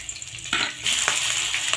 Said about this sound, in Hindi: प्याज को भी हम सुनहरा होने तक भूनेंगे